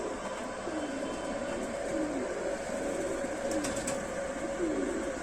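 Soft repeated coos come from a Lal Sira pigeon hen brooding her eggs, a series of rising and falling calls at moderate distance over a constant background hum.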